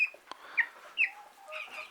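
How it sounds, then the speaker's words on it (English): Backyard chickens cluck and squawk in short, separate bursts, close by and fairly soft against a quiet background. "They're good chickens."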